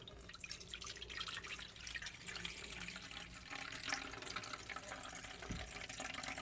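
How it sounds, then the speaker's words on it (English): Water poured out in a rose healing ceremony trickles and drips steadily, a faint close splashing stream running throughout without speech. "So I'm going to pour this water."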